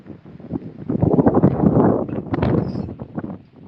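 Strong gusting wind roars and buffets the microphone in loud, uneven surges, rising and falling over a few seconds.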